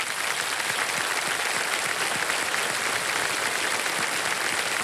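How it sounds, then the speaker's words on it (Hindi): A studio audience on the quiz show Kaun Banega Crorepati applauds a winning contestant, steady and full-bodied clapping that fills the room throughout. "तालियां बज जाए इनके लिए"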